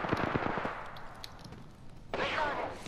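Enemy gunfire in Apex Legends crackles in a quick burst of shots, then a second harsher burst follows after a short lull, moderately loud with no talk.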